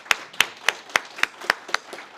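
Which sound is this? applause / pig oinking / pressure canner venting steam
applause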